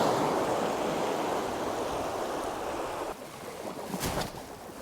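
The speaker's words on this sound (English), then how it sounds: "you can see the waves breaking and where they're building and where they're dying off" Broad, hissing wash of waves breaking on a UK beach at night, a steady surf rush that softens and then swells again with a fresh breaker near the end, moderately close with light wind buffeting.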